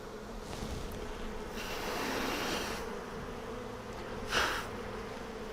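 Honey bees hum steadily on a Flow hive frame, a close, continuous droning buzz that swells slightly, with one sharper pass as a bee flies near.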